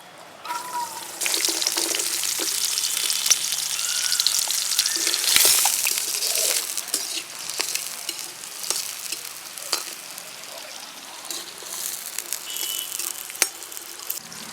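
Shallots fry in groundnut oil for a spicy chicken dish, a loud, steady sizzle with frequent spoon clatter and stirring knocks, some water-like trickling, no speech.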